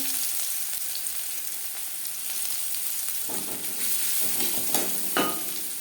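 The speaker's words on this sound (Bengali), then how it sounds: "মাছ ভেজে নেওয়া তেলে দিয়ে দেব পেঁয়াজ কুচি" Chopped onion dropped into oil left from frying katla fish, a soft steady hiss that swells into a livelier sizzle partway through, with a few stirring scrapes near the end and no speech.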